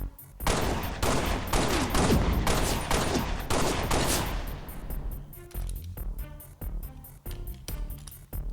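A LEGO M6G Magnum pistol from Halo Reach fires in rapid, loud bursts of close gunshots from a game, dense at first, then spaced into individual shots with short gaps.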